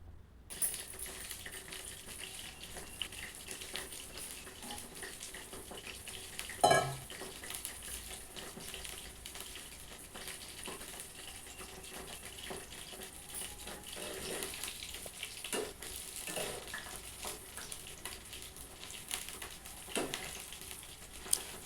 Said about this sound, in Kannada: ಸ್ವಲ್ಪ ಹೊತ್ತು ಫ್ರೈ ಆಗಲಿ.